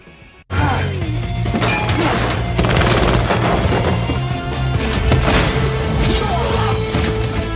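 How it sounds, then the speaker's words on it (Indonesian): Gunfire and crashing impacts from a close-range shootout in the action film Nobody erupt suddenly after a quiet start, then continue as loud, dense rapid shots and smashes mixed with a driving score. "lalu Hutch menembaki mereka dari jarak dekat"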